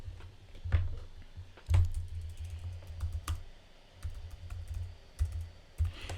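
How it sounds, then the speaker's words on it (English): Keys clatter on a computer keyboard in short irregular bursts of taps, close and fairly quiet, with a low steady hum underneath and no speech. "so let me type it out."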